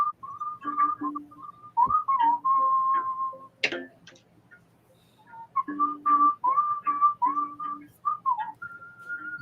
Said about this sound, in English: You hear him whistling?